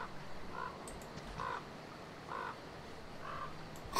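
Crows cawing in the video game Metro Exodus, set in a scary village, with four separate caws spaced about a second apart over a steady low background hum.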